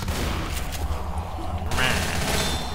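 Rapid gunfire in the zombie shooter Left 4 Dead comes as bursts of sharp, close shots over chaotic game noise, with a voice talking across part of it.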